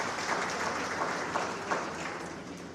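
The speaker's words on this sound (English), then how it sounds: "Let's clap hands as he's coming." An audience at a social work symposium claps, a dense and steady round of applause that fills the room without any speech.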